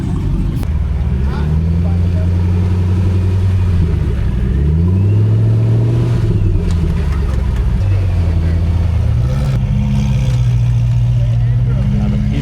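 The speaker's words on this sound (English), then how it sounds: "you want to hear the revving of the engine" A Koenigsegg Jesko supercar engine revs repeatedly at a Cars & Coffee meet, its pitch climbing and falling in several loud surges, with idling rumble between and some voices in the background.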